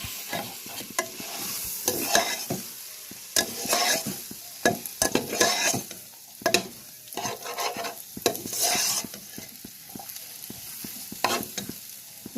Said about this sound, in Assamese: এইখিনি 2 মিনিট এনেকৈ ভাজি ল'ম